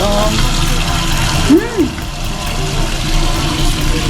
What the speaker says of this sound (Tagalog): So, yan yung sink. Try natin yung tubig.